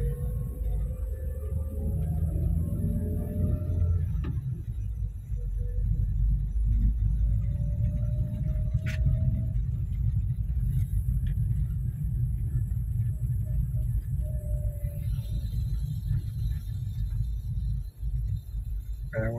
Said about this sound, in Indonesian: Kayak mobil drag ini